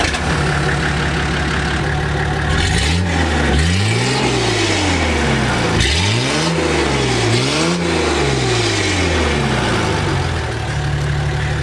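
A naturally aspirated Nissan Patrol TD42 diesel with a straight-piped exhaust idles loudly, then revs up and down in several strong surges before settling back to a steady idle.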